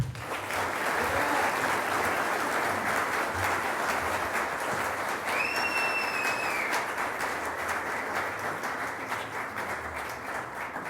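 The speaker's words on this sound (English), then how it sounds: "please join me with one more round of applause, congratulating our 2024 award winners" A large audience at an annual awards event gives a sustained round of applause for the award winners, with even, continuous clapping from many people throughout, and a faint whistle briefly cutting through the middle.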